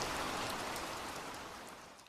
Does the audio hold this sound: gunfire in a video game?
no